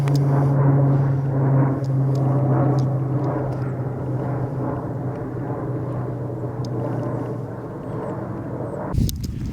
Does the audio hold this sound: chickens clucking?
no